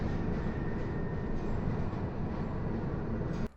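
A subway train in the horror game Subway Midnight rumbles steadily and loudly, a dense, continuous low roar of wheels and carriage noise that runs without a break for a few seconds and cuts off abruptly at the end, with no talking.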